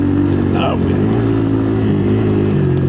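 A small Kawasaki KLX 140 dirt bike engine drones and revs nearby, a steady buzzing tone with slight pitch shifts, while a voice talks over it.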